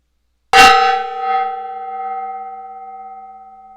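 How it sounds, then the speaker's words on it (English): A gong is struck once, close and loud, with a bright metallic crash that settles into a long, steady ringing hum fading slowly over several seconds. "I banged the gong."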